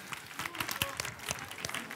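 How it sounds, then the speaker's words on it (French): Applause from an audience, a steady patter of many hands clapping at moderate volume, with faint voices mixed in. "On peut leur donner une bonne main d'applaudissement"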